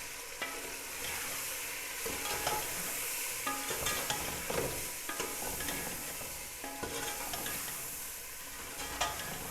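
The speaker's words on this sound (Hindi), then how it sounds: "बस थोड़ी देर इसे भूनेंगे।" Red chili and turmeric sauté with drumsticks and meat in a pan, giving a dense, continuous sizzle with frequent stirring scrapes and clinks close by, and no one talking.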